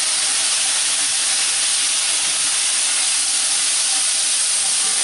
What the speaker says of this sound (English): you heard all that sizzling in the background